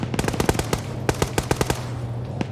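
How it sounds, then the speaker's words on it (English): Rapid bursts of automatic rifle fire in a tactical shooter video game, several quick volleys of sharp cracks with short pauses between them, loud and close with no talk over them. "You're hearing more gunfire."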